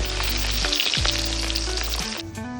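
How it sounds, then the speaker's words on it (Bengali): Pieces of katla fish fry in hot oil, giving a loud, continuous sizzle and crackle up close, with a faint stir near the middle. "আমি মাছগুলি সুন্দর করে ভেজে নিচ্ছি লাল লাল করে"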